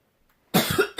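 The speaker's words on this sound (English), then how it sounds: "I'm still got a little bit of cough." A woman coughs a few times up close, a short harsh burst followed by another brief cough, after a moment of near silence; she has a lingering cough.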